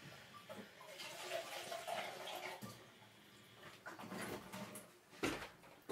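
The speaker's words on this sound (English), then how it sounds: "I'm going to run that under the tap a minute and give it a swirl" Water runs from a tap and swirls in a container, quiet and splashy, with soft clinks and sloshing bursts throughout.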